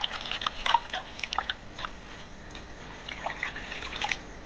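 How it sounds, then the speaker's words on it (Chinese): Hands rub and wash mud off plant roots in water, quiet splashing and dripping with soft squelchy rubbing, close and faint. "反复搓洗，把泥清洗干净。"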